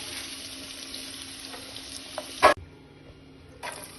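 Chickpeas and carrots frying in a pan in a broccoli curry kitchen, a steady close sizzle with a few stirring scrapes, then a sharp clatter and the frying drops to a quieter hiss before rising again.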